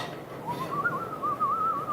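A pet parrot gives a playful chase whistle, a wavering mid-pitched tone that rises and warbles in two short phrases over faint room noise, close and moderately loud.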